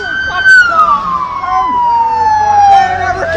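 A police siren wails loudly and close during a high-speed police chase, its pitch sliding slowly downward in a long continuous sweep over traffic rumble.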